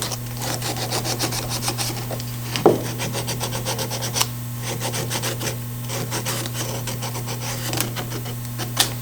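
Sandpaper rasps back and forth across a wooden speaker part in quick, continuous rubbing strokes, close and steady, over a constant low electrical hum.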